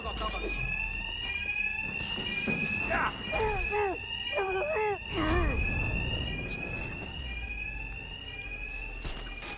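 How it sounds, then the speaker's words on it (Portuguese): An alarm goes off in the video game Batman Arkham Knight, a steady, piercing electronic tone that sounds continuously over muffled game voices and ambient noise. "Barulho do alarme."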